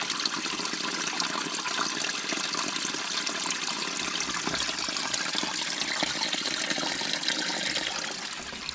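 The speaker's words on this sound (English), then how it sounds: "We got ourselves a waterfall." Steady, loud rush of a waterfall inside a cave, a continuous broadband roar with no breaks and no voices.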